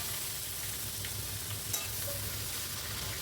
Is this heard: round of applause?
no